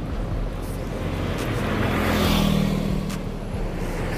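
Medan intercity bus pulling out of a bus terminal in Solo, a steady low engine rumble with a brief rising drone midway and faint background clatter, no talk over it.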